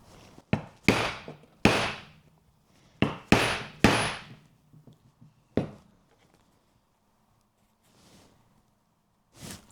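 A heavy hammer drives a crew punch into leather on a punch mat, giving about eight sharp, loud strikes in uneven bursts, some close together, followed by quiet gaps and a faint tap near the end.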